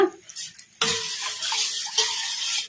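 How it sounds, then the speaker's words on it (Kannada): Water pours steadily into spiced buttermilk for a couple of seconds after a brief clatter, a continuous close splashing stream. "ಈಗ ಇನ್ನ ಸ್ವಲ್ಪ ನೀರು ಹಾಕೋಣ"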